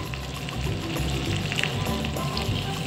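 Onions sizzle steadily in hot oil with cumin and dried chilies for yellow daal tadka, a continuous close frying hiss with faint scraping as they are stirred, no voices.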